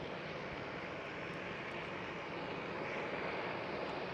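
A TAP airliner rolls along runway 24 at Amsterdam Schiphol, its engines a steady, loud broadband roar that holds evenly throughout with no voices.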